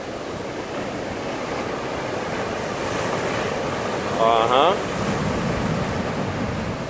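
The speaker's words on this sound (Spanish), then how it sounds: "Ese es cuando el mar se come toda esta tierra." Ocean surf rolling and washing against the rocky shore at La Jolla in San Diego, a continuous close wash roughened by wind, with a brief voice murmuring partway through.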